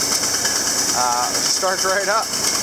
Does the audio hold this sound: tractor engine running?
yes